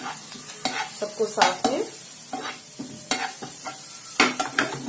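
Green chilies sauté in a hot pan with crackling sizzle and repeated bursts of stirring scrapes, while a voice speaks briefly.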